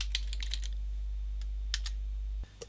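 Quiet computer keyboard typing comes as a few scattered bursts of light key clicks, close and soft, with a steady low hum underneath and a short pause between groups of keystrokes.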